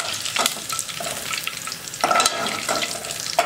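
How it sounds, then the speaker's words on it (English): Food frying in oil for a chicken stew, a close hissing sizzle that swells and fades as it is stirred, with a couple of sharper bursts of crackle and no talking. "Let's fry a bit, not too much like this."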